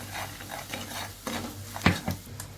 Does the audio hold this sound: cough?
no